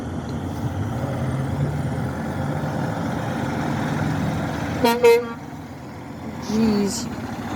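A train horn fitted to a Kenworth truck gives two short loud blasts over steady idling engine and road noise, followed by a softer, lower honk a moment later.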